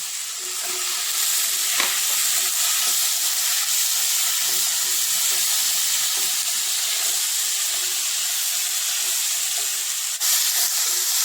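Finely chopped tomatoes drop into onions frying in a pan for a Kerala chicken curry, giving a steady close sizzle with scattered pops and stirring scrapes throughout, no voices.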